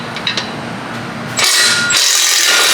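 A power tool works at exhaust bolts on a Honda: brief mechanical rattling, then a sudden loud, steady whirring burst close by that runs for about a second before easing off slightly.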